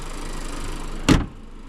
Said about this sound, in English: The hood closed very, very impressively, even though it's a pre-production model.